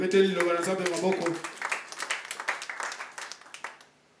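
Church congregation at a thanksgiving service in Kinshasa applauding for Jesus, brisk clapping that starts under loud voices and then continues alone, steadily fading over about four seconds.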